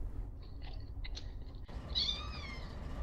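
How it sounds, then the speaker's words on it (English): A cat meows once in a drawn-out, wavering call, close and fairly quiet, inside a room where a GE AC4400CW train simulator is playing, preceded by a few soft clicks and low background hum. "Just lots of meowing."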